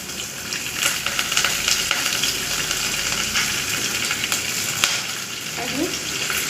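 Curry leaves, dal, green chili and peanuts frying in hot oil, a loud continuous crackling sizzle with occasional stirring knocks, close and without talk.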